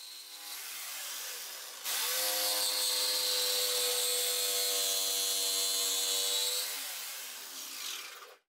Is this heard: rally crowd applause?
no